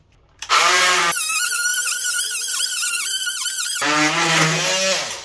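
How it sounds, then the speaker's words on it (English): An oscillating multi-tool with a new blade cuts plastic pipe in a tight corner, a loud close whine that drops in pitch under load in the middle, then rises again before stopping. "go back in with your multi-tool"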